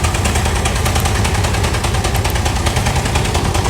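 1902 Westfield veteran car engine running flat out, a loud rapid chugging rattle with fast regular beats, dense and continuous throughout.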